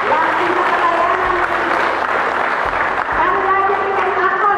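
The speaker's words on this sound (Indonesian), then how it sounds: "Tepuk tangan untuk Tuhan Yesus." A church gathering of women claps for Jesus, a steady roomful of applause that carries on under voices talking and calling out over it.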